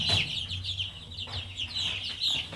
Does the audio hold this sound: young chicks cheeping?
yes